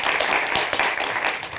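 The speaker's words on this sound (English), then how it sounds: "Maybe one more round of applause." A brief burst of audience applause at a panel discussion, close and fairly loud, with many overlapping claps forming a continuous patter.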